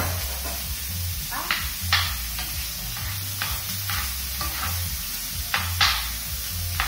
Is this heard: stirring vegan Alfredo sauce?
yes